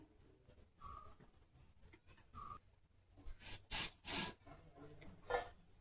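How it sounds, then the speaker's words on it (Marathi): Firm, hard raw mango is sliced into small pieces on a vili, a fixed curved kitchen blade, giving faint, scattered scraping and rasping strokes in short bursts in a quiet room. "सुरीने कापू शकत नाही, म्हणून मी विळीवर कापतोय"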